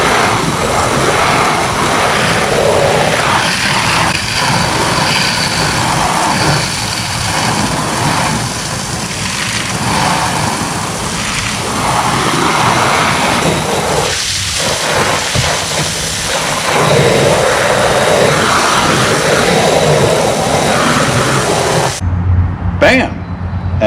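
Steady hiss of water spraying against house siding to rinse off algae cleaner, continuous and fairly loud throughout, with broadband rushing that cuts off near the end.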